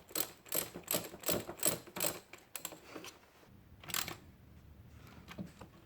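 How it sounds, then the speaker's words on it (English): A ratchet tightens a hose clamp on the boost hose of a Land Rover LR3 2.7 TD, giving rapid close clicking bursts in quick repeated strokes, then a pause and one final short burst, with no talking. "And tighten that clamp up."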